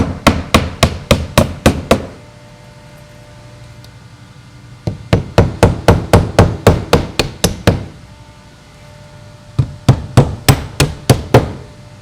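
A hammer fastens a siding starter strip to a wall, sharp loud strikes in three quick rhythmic runs of about six to ten blows each, separated by short pauses.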